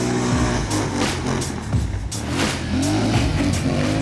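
A nearby 2023 Polaris Scrambler XP 1000 S engine revs up and down repeatedly, rising and falling whines over a steady motor roar, with no talking.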